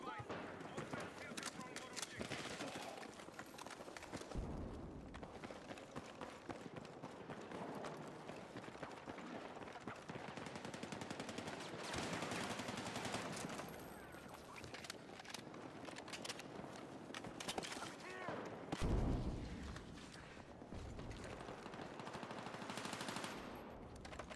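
Rapid automatic gunfire from a Battlefield 6 match, shots at respawn beacons, crackling in dense sustained bursts nearly nonstop, with game noise and a voice talking over it.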